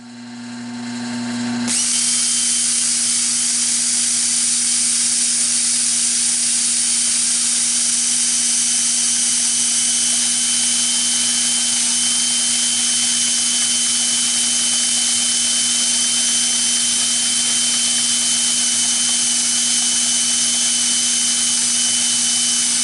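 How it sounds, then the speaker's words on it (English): Red cedar spins on a wood lathe while being sanded, giving a loud, steady whirring drone with a constant hum that begins abruptly and runs unbroken throughout. "let me slow this thing down and sand her up."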